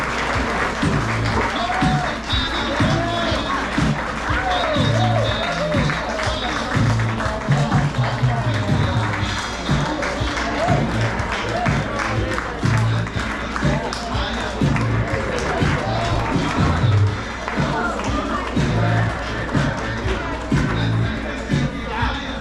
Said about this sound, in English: Give a big round of applause to Cedar Edge Middle School students Juliana Wallace and Taylor Thomas.